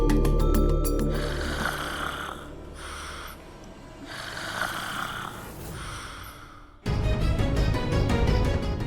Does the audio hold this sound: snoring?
yes